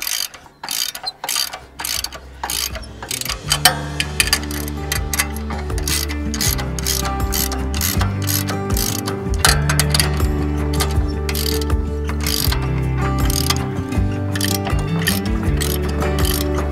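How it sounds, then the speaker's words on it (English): A hand wrench ratchets in rapid, continuous clicking bursts while adjusting a row-crop cultivator for corn, loud and close, with no talking. "I really enjoy this wrench"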